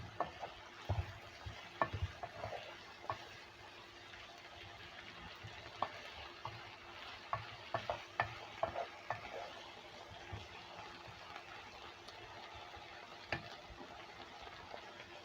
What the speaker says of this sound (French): Je mélange le tout pour que mes épices et la moutarde soient bien imprégnées